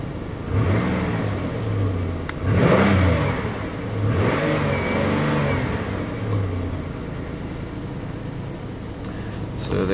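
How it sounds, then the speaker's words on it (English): A 2008 Pontiac Grand Prix engine cold-starting, settling into a steady mid-pitched idle with a few surging revs, close and loud, with a person talking over it at times. "That was the cold start of the 2008 Pontiac Grand Prix."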